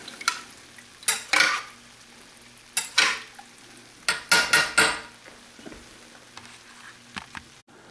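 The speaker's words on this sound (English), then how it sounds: "And stir it all together" Black pepper and chopped clams being stirred in a saucepan for a seafood brodetto, a spoon scraping in clear separate strokes with brief pauses, close and alone.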